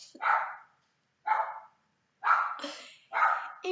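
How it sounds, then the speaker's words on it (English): A dog barks indoors in four separate moderately loud barks, spaced roughly a second apart, with the last two coming in quick doubled bursts. No talking is heard. "now Taco's just barking and barking and barking"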